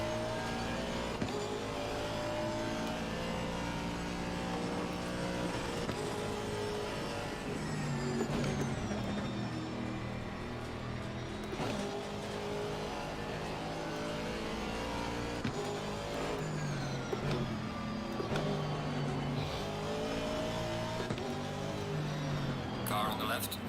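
A Lamborghini GT3 race car engine in Assetto Corsa Competizione at Zandvoort roars steadily with rising and falling revs and gear shifts, loud and continuous, while a voice talks over it.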